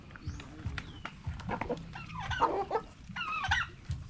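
Chickens cluck and chirp in bursts during feeding, fairly close, with a busy yard of scratching and small movements underneath.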